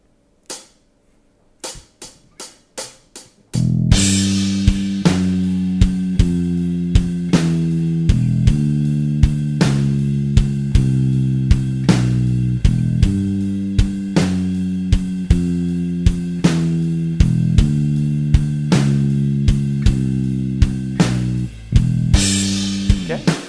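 A bass guitar plays a riff, a repeating, steady pattern of plucked low notes. A few sharp clicks count it in, and the riff continues for the rest of the clip.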